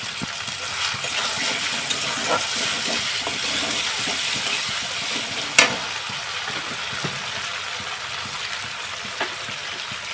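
Spice paste of ginger and garlic being fried in a pan, with a steady close sizzle and occasional stirring scrapes and a sharp clink, no talking.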